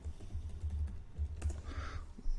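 Quiet keystrokes on a computer keyboard as a workspace password is entered, a soft irregular patter of taps close by with no talking.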